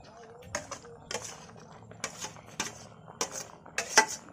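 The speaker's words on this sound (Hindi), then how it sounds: "इसको डाल करके कलछुल से चला दे रही हूँ अच्छे से।" A metal ladle stirs a sweet custard apple mixture in a wok, giving repeated light clinks and scrapes about every half second, fairly close and moderately quiet.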